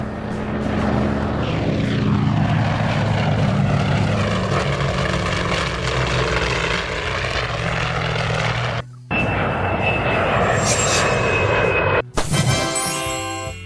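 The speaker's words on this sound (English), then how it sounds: "Grumman S-2 Tracker, originally a submarine hunting aircraft, later converted for firefighting." A Grumman S-2 Tracker, a former submarine-hunting aircraft converted for firefighting, roars steadily with loud propeller and engine drone, briefly dropping out twice near the end.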